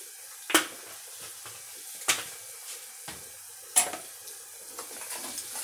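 Sambar powder frying in a pan for pachi pulusu, a soft steady sizzle with a few sharp spoon scrapes and clinks against the pan, close and alone without talk.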